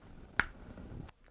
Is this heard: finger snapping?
yes